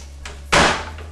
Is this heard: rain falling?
no